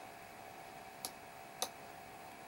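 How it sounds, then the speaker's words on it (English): A computer mouse clicked twice while working in Paint 3D, two sharp, crisp clicks about half a second apart over quiet room hiss. "I left click and drag"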